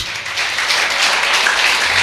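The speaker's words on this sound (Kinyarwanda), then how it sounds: "Twongere dukomere Imana amashyi." Crowd applause fills a church as worshippers clap for God, a dense, continuous wash of hand claps that grows a little louder after the first moments.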